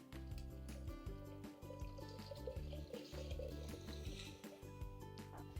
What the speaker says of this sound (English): And now just simply add little water.